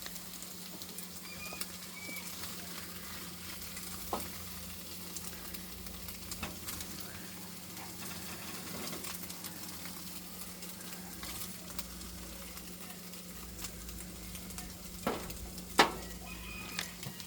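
Scrambled eggs frying in a pan during a traditional Appalachian breakfast, a steady soft sizzle running throughout at low level, with a few faint clinks and one brief sharper tap near the end.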